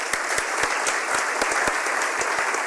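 Steady applause from an audience at a literary awards ceremony, a dense, even wash of clapping with a few louder individual claps standing out nearby.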